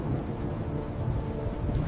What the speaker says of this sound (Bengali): এখন তো অনেক ঝড় বৃষ্টি হচ্ছে, তাড়াতাড়ি গিয়ে কবুতরকে উদ্ধার করতে হবে।